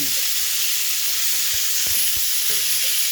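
Chicken pieces sizzle in a hot pan for a chicken and bacon casserole, a steady bright hiss with a few soft stirring knocks, close and alone with no talking.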